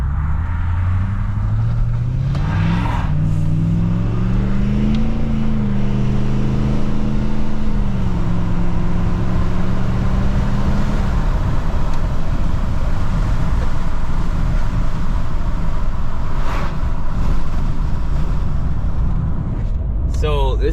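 A Ford 6.7 Powerstroke diesel truck with a muffler delete revs up and settles over several seconds, its tone rising and falling before dropping to a deep idle rumble, loud and close, with voices talking over it.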